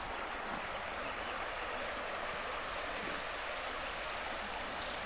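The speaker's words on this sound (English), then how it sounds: "That's just tons of water moving." Floodwater from record Oklahoma rainfall rushes through a washed-out culvert beside a county road, a steady, loud, broadband roar that holds unchanged throughout with no voices.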